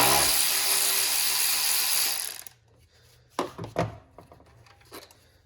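A ratchet works a 10mm bolt off the intake of a 5.7L Hemi Jeep Grand Cherokee, a loud steady whirring burst followed by several short sharp clicks and clunks nearby.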